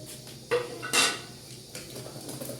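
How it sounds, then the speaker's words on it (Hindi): A spoon scraping and clinking against a pot while custard and sugar are stirred, a few distinct metallic knocks between softer scraping, close and moderately loud. "हिलाना आपने बिल्कुल बंद नहीं करना, क्योंकि ये नाजरीन देखें तो गाइस, ये गाढ़ा हो रहा है हमारा कस्टर्ड"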